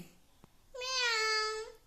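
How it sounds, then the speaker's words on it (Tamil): A single drawn-out cat meow, clear and fairly close, rising then holding steady for about a second before fading. "பூனை"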